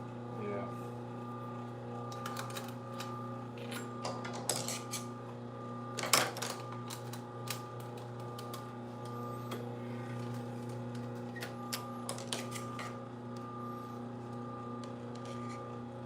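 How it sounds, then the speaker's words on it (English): Leather cushion for a yacht being stitched on a sewing machine running without a bobbin, a steady mechanical motor hum with light clicking and a few sharper knocks, continuous throughout with a person talking over it. "I basically sewed a good 2 feet with no bobbin"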